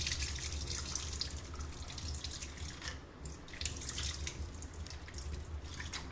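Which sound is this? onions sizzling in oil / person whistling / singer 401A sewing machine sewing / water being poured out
water being poured out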